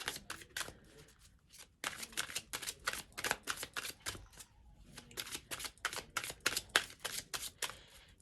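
Romance angel oracle cards shuffled in rapid bursts of crisp riffling slaps, close and clear, with a short pause partway through before the shuffling resumes in quick repeated strokes.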